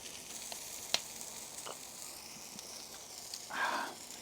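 Fat on Chinese roast pork crisps over barbecue heat, giving a faint, continuous sizzle and hiss with a brief louder flare near the end.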